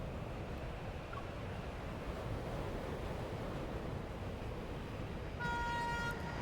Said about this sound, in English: The train's headlights cut through the darkness. Surrounded by rushing air currents, it barrels forward.